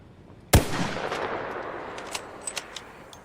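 A single sharp bolt-action rifle shot in ARC Raiders cracks loud and close, then trails off into a long fading echo with a few faint clicks afterward.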